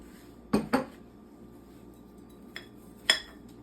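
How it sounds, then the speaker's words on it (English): A knife clinks and scrapes against a plate while cutting a piece of hot cheeseburger pie, with two quick knocks close together, a pause, then a faint tap and one more sharp clink. "I'm trying to cut just a small piece here."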